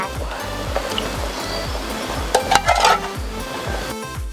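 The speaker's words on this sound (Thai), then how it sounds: "ขั้นตอนสุดท้ายนะคะก็คือใส่หัวกะทิลงไป" Coconut cream stirred into a crab curry in a pot: a spoon scrapes and knocks against the pot in a steady rhythm over the simmering liquid, with a brief clatter partway through.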